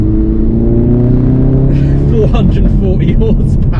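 A Ford Focus RS MK3 accelerating on a road, heard from inside as a loud engine note rising steadily in pitch, with speech over the latter part.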